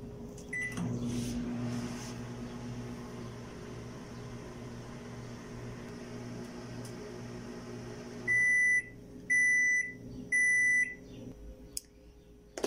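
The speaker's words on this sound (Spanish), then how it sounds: "lo voy a llevar al microondas por" Microwave oven heating covered enchiladas for two minutes: a low steady hum runs for several seconds, then three loud evenly spaced completion beeps sound close by, followed by quiet.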